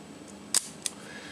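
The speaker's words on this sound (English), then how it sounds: "Right here we have the shutter release." Nikon SP rangefinder camera shutter release, two crisp close mechanical clicks about a third of a second apart, the first louder, in a quiet room.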